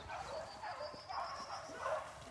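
A pack of ten beagles on a hunt, baying and yipping in scattered bursts at middle distance, several dogs overlapping with repeated barks across the stretch.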